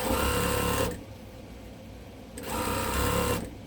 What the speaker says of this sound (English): You can do a back stitch across it a couple of times if you want to add a little strength to that hanger.